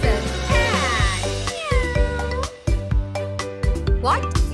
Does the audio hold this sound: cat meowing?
yes